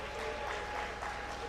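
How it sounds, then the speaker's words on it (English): A brief, even burst of audience applause for a raffle winner at a Youth Empowerment Summit during National Diaspora Day celebrations, continuous clapping from a crowd. "Please give him a round of applause."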